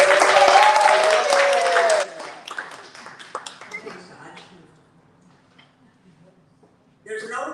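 Applause from an audience at a live book event in San Francisco, a dense burst of clapping for about two seconds that quickly thins into scattered claps and quiet, before a voice begins speaking.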